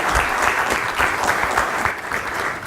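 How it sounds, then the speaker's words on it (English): An audience at a Goa conference applauds an honoured guest, a dense, steady wash of many hands clapping that holds for the whole stretch without pause. "Please, a round of applause for our honorable guest, Shri Suresh Prabhu."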